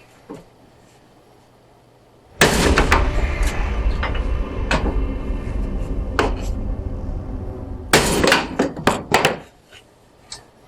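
Sledgehammer blows on the body of a wrecked Pontiac Fiero: a long run of heavy, loud metallic impacts, then after a pause a quick burst of several more sharp strikes close by.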